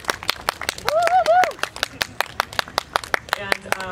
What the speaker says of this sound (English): So once again, round of applause for our panelists.